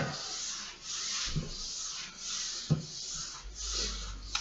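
French polishing rubber swept over a wooden surface in wide figures of eight, a soft continuous rubbing hiss rising and falling with each stroke, close and fairly quiet with no talk.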